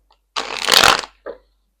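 Two short bursts of tarot card shuffling, a longer riffling rush followed by a brief second flutter, close up with no talking.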